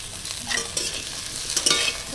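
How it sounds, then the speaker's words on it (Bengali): A potato and brinjal curry with slit green chilies, chopped tomato and ginger paste gets stirred in a pan. Brief scraping strokes sound over a low sizzle, close but moderate in level. "সব কিছু নাড়াচাড়া করে মিশিয়ে নেব"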